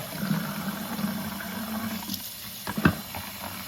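Water runs steadily into a vessel, a continuous hiss with a couple of faint knocks near the end.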